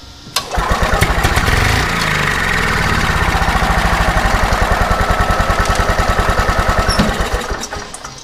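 EZGO golf cart engine, fitted with a newly replaced starter generator, cranking and catching with a close, loud, rapid, even putter that runs for several seconds before cutting out.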